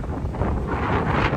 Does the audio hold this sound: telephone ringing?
no